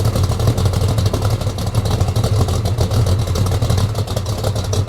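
A 1969 Chevelle SS engine, not stock, rumbles loudly and steadily with a choppy, lopey idle, its deep throb pulsing continuously throughout.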